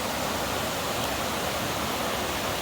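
Water from a small mountain waterfall rushes in a dense, unbroken hiss, steady and fairly close with no other sounds.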